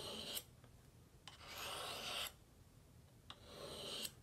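Curved blade drawn across a fine sharpening stone in several slow rasping strokes, close and quiet with short pauses between passes.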